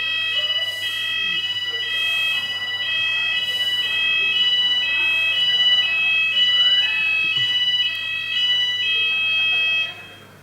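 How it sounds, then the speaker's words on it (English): A fire alarm test at the Europa during a technology conference: a loud, steady, high electronic tone pulses without a break for about ten seconds, with faint background room noise. "We get fire alarm tests every Tuesday as well"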